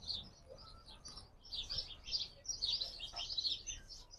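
Birds chirp in a garden with an olive tree and bougainvillea, giving bursts of high tweets that grow busier and more overlapping midway, moderately near, with faint background noise.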